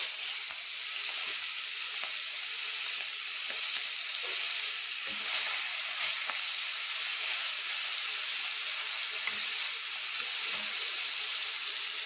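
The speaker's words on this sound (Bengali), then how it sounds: "এবার মাছগুলো ভেজে তুলে নিব।" Giant freshwater prawns coated in turmeric and salt fry in very hot oil, a continuous soft sizzle with occasional stirring clicks and no speech.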